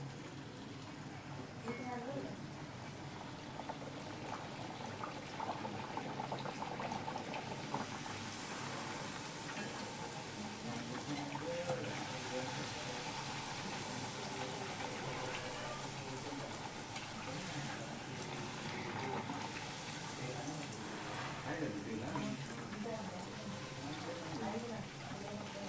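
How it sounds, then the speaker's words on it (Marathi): Small puris frying in hot oil give a continuous, soft, dense sizzle and crackle with faint bubbling, steady and close throughout, with no voices over it. "आता एक अशा तळून घेऊ."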